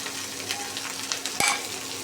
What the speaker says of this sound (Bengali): এখন নেড়ে চেড়ে আর কি মিক্স করার পালা